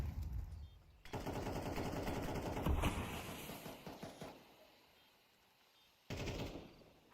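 Rapid automatic gunfire in a Counter-Strike match at a BLAST Bounty event, with an MP9 firing sustained loud bursts, a pause, then another short burst.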